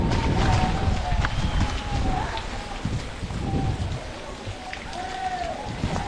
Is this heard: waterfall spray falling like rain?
yes